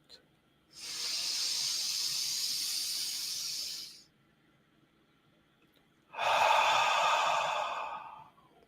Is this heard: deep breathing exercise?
yes